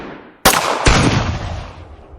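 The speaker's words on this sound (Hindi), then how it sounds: "उन्होंने गोलियां चलानी शुरू कर दी।" Gunfire sound effect: two sharp loud shots in quick succession, the second booming with a long rumbling echo that fades away.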